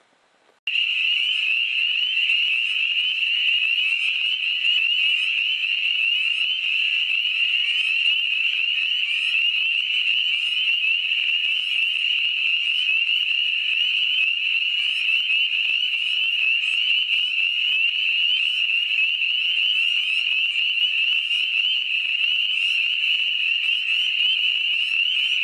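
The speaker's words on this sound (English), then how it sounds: "here's our northern leopard frog" A chorus of northern leopard frogs calls from a breeding pool in Kentucky, forming a dense, unbroken high trill. It starts abruptly and holds loud and steady for about twenty-five seconds.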